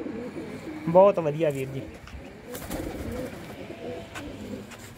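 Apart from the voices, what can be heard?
pigeons cooing in a loft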